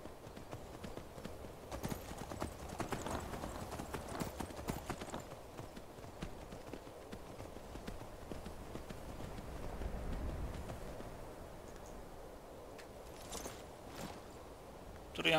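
Horse hooves clip-clop steadily through a Skyrim-style fantasy game, a continuous trotting rhythm at moderate volume with faint background game ambience and no talking.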